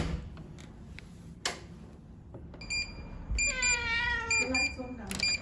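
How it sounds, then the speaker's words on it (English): Cat meowing outside a door on a summer trip in Antalya, Turkey, giving a few drawn-out, wavering meows midway through, with background noise and people talking nearby. "There's a cat right outside our door."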